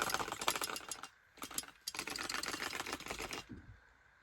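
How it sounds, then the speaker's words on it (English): A Daniel Defense MK18 airsoft rifle from 6mm Pro Shop and Golden Eagle, with a cheap loose stock, rattles in quick clattering bursts as it is shaken, with short pauses between shakes. "So that paired with the rattly cheap stock makes the gun obnoxiously loud whenever you shake it."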